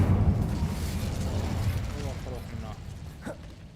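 The Incendio fire spell is cast in Hogwarts Legacy, a loud close whooshing burst of flame that roars and then fades into a crackling rumble, while a voice speaks over it.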